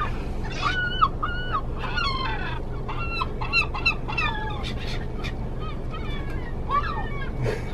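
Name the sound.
chicken clucking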